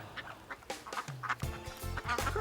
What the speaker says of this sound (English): Chris, do you hear somebody quacking?